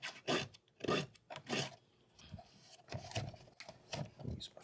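Paint being scraped off a surface where black has covered yellow: about eight rhythmic, close, rasping strokes with brief pauses between them.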